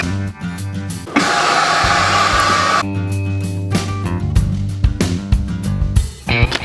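A VacMaster VP195 chamber vacuum sealer runs with a steady pump hum and a louder broadband rush of air early on, then a lower motor drone with clicks as the cycle continues, close by with no talk.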